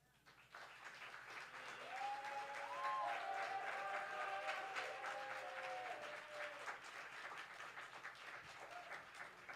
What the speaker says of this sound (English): Keep that round of applause going for Ben.